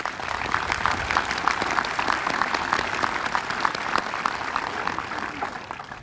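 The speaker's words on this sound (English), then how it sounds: "Let's give them all a round of applause." Audience applause at a 9/11 20th anniversary ceremony in Commack, steady dense clapping from a crowd lasting throughout, moderately loud and without speech.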